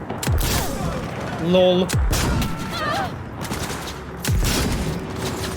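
Heavy cannon gun firing in the video game Cyberpunk 2077, three loud booming shots spaced about two seconds apart with sweeping electronic tones between, and a player speaking briefly.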